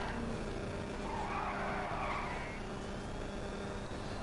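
An electric car in Grand Theft Auto V skids with a steady, unbroken tire screech and road noise lasting the full few seconds, fairly loud and close, with no talking.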